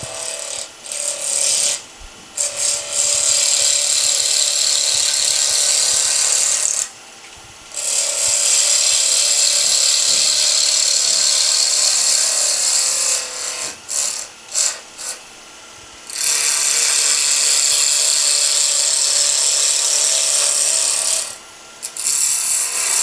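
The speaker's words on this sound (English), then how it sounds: "my preference is a small bowl gouge, but you can pretty much start roughing this down with anything" A small bowl gouge roughs down a corn cob pen blank cast in CA glue on a wood lathe, giving a loud, steady, hissing scrape in long passes broken by several brief pauses, close up with no voices.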